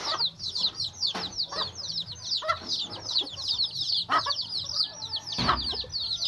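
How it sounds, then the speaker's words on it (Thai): A flock of farm chickens, including a rooster, clucks continuously at close range, busy overlapping calls with a few louder squawks and brief thumps, no voices. "ไก่ตัวผู้"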